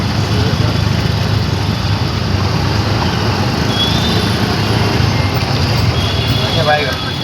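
An auto rickshaw rattles along with a continuous engine drone and road rumble during the ride, loud and steady throughout.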